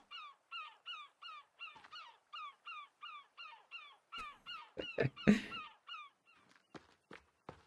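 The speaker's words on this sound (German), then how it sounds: "Was ist mit der Möwe los?" Bird calling in The Forest video game, a long run of evenly spaced harsh caws, steady and fairly close, followed near the end by a few thuds and footstep-like knocks.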